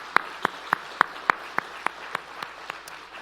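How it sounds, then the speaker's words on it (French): An audience at an awards announcement claps in unison for the contestants. The claps are sharp and evenly spaced, about three or four a second, fairly quiet and set against a low background hum. "Alors, bonne main d'applaudissements à vous tous."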